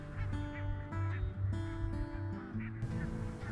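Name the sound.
geese honking on a lake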